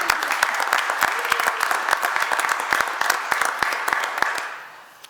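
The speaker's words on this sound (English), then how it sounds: "let's give Crystal a round of applause." People at a Warren County Fiscal Court meeting give a round of applause, a brisk run of many close, crisp claps that stays steady for several seconds, then tapers off and dies away.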